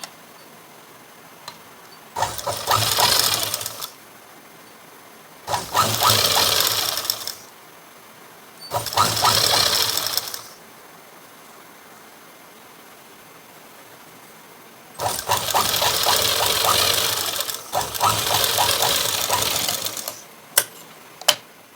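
A sewing machine stitches a rolled blouse edge in five separate bursts of rapid, steady clatter. Short pauses fall between the runs, and no one speaks.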